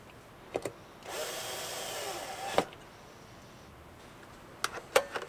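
Corner screws being driven into a Hisense HK570 terminal with a power driver: one sustained whirring burst of about a second and a half, framed by a few sharp clicks and knocks, close and fairly quiet.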